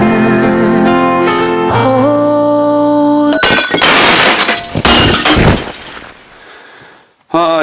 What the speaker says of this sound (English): I've gone and crashed the drone for the first time.